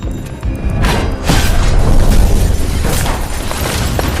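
A grenade explosion in an action film, a loud, sustained booming roar with broadband rumble and debris, continuing at full strength throughout.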